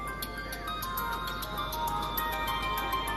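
A phone rings in an office scene of a Pakistani drama, a steady electronic ringtone with regular repeating pulses, heard alone at moderate level with no talking.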